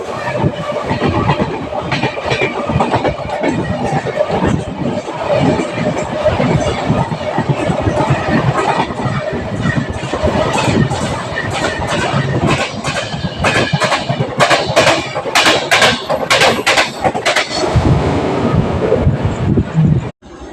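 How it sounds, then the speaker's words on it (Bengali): The Haldia SF Express passenger train rolls slowly through Aligarh Junction at night, a loud continuous rumble of wheels and carriage rattle with repeated clicking track joints, heard from on board, with faint voices underneath. "তাও স্লো আছে ট্রেন।"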